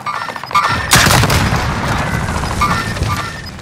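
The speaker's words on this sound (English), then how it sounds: "Rocket launch" A rocket launcher explosion in a video game: a single loud, close boom strikes after a short quiet lead-in, then trails into a long rumbling decay with scattered crackles.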